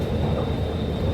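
Bengaluru metro train rumbles steadily in a brief, loud, continuous roar with a faint high whine over it, no voices.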